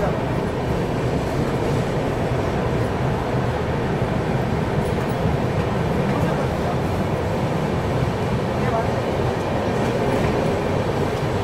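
The Udyog Nagri Express stands at a station with banker locomotives attached at the rear, a steady, loud rumble of rail cars and engines that continues throughout.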